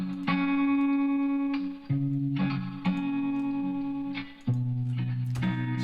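An electric guitar played through a surf preset, with chorus, distortion and echo, strumming sustained chords that ring out clearly and are restruck every second or so.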